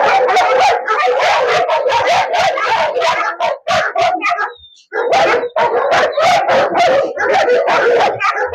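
A dog barks, yips and howls in a rapid, nearly continuous run of close, loud calls with only a brief pause midway, after being shocked by biting an electrical wire.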